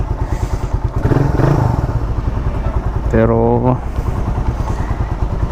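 A carbureted Rusi Raider 150 motorcycle engine runs close by with a rapid, throbbing beat that swells briefly midway, while someone talks over it.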